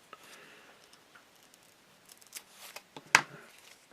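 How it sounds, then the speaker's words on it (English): Small scissors snipping turkey tail feather fibers at a fly-tying bench, faint light clicks and rustles building to one crisp snip near the end. "We're just going to cut off about 6 or so fibers of this turkey tail."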